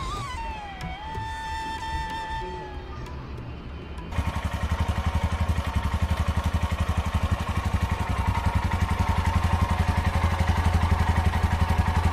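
A rented motorcycle cold-starts at a roadside campsite at night: a brief whine and sputter, then from about four seconds a loud, steady, close idle with an even rapid thump that holds to the end.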